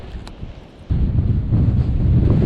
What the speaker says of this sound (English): Oh, listen to that wind.